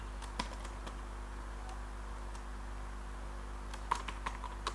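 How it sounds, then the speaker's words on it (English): Soft, irregular keystrokes on a computer keyboard tap sparsely over a low steady hum, with a small cluster of quicker clicks near the end. "I will come to here and type else part"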